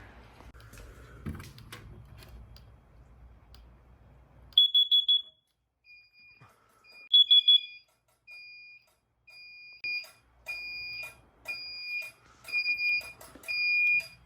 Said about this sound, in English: I'm going to test our carbon monoxide strobes